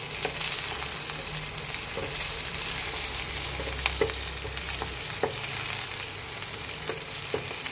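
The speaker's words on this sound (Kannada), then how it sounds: "ಈಗ ಆನಿಯನ್ ಹಾಕ್ತೀನಿ ಆನಿಯನ್ನು ಒಂದು ಸ್ವಲ್ಪ ಜಾಸ್ತಿ ಫ್ರೈ ಆಗಬೇಕು" Onions frying with garlic in a pan for a healthy diet dish, a continuous close sizzling hiss with scattered sharp crackles and stirring sounds, no voices.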